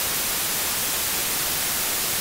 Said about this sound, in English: I'll show you on some white noise to make it easier to hear this effect on frequencies.